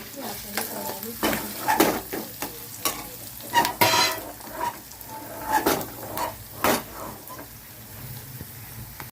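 Ginger paste and tamarind fry in oil in a pan for an idli chutney. A sizzle runs under repeated close scrapes and clanks of a stirring spoon.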